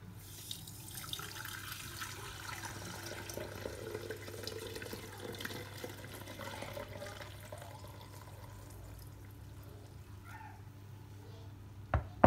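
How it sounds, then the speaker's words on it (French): Milk being poured through a strainer makes a faint, continuous trickling flow for about twelve seconds in a quiet kitchen, ending with a couple of brief clinks. "On peut les filtrer à la passoire."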